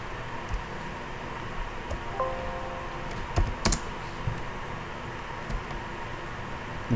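Commands typed on a computer keyboard, a sparse run of quiet key clicks with a couple of sharper taps against a steady background hiss.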